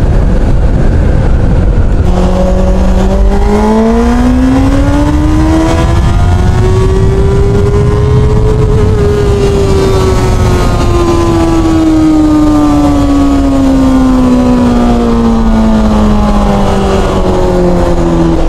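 A VOGE RR660 motorcycle engine revs up and then slowly winds down, one long loud exhaust note that rises in pitch and falls back, close and alone.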